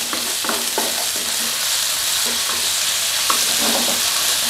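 Pork stir-frying in oil in a pan for instant noodles, a loud continuous sizzle with scraping stir strokes over it, no talk.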